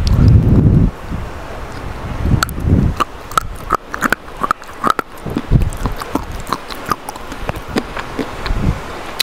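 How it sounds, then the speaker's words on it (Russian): Close, sharp crunches of Kyrgyz clay being bitten and chewed, repeating irregularly over a steady rush of wind against the microphone. "Она не так громко хрустит, как мел."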